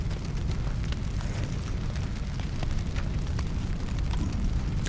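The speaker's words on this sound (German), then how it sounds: "Was war das jetzt für eine Explosion?" A Splinter Cell video game explosion rumbles with a deep booming roar and crackling debris, a loud sustained blast with no talk over it.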